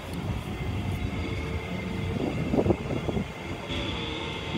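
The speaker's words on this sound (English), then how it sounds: "on a tram." A tram carrying passengers back to the cruise ship at Coco Cay rumbles along steadily, with a low rolling drone and a few brief clunks and rattles midway, no talk over it.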